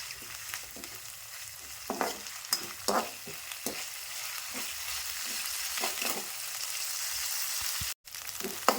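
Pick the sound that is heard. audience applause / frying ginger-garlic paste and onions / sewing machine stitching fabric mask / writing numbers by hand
frying ginger-garlic paste and onions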